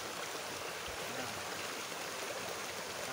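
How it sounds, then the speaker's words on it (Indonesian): A clean river flows steadily nearby, giving an even, continuous rush of water with no breaks and no voices over it. "sungai golongan bersih ini"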